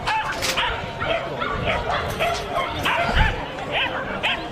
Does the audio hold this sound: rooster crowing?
no